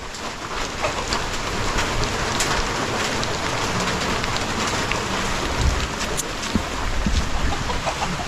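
Heavy rain on a rainy morning at a farm during harvest, a loud, dense, steady downpour with scattered heavier drops and no pauses.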